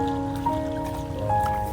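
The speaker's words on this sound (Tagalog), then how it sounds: "ang lakas na ng ulan" Heavy rain falling near a rocky white-sand beach at Port Barton, San Vicente, a steady, dense watery wash with constant patter, loud and continuous.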